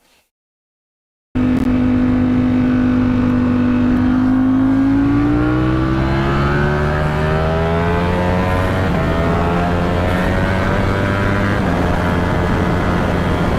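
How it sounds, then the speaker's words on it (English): Ducati superbike engine winding up fast under light throttle during acceleration, a loud, close rising whine that climbs steadily in pitch after a brief silent start, continuous with no talk. "Do you hear how the motor just winds up like so fast?"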